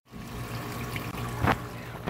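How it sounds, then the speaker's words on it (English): Water trickles and splashes steadily back into a sump pit at a flooded-yard French drain job, a continuous close running flow with a brief louder gush midway. "I'm running water over here. It's coming back into the pit."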